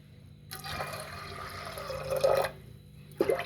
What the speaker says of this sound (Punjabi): ਡੇਢ ਕ ਗਲਾਸ ਪਾਣੀ ਦਾ ਪਾਵਾਂਗੇ